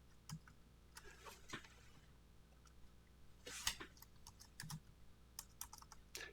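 Typing on a computer keyboard, irregular soft key taps and clicks, close and quiet, with one louder clatter midway and no voices.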